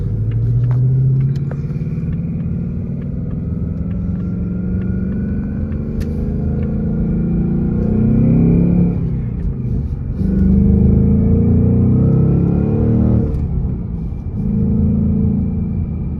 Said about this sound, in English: It has auto rev match.